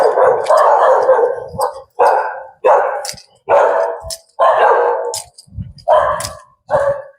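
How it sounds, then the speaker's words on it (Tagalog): Dogs bark loudly and repeatedly in bursts, several barks in quick succession with short pauses, close by and alone without talk. "Naririnig nyo ba yung tahol ng mga aso doon?"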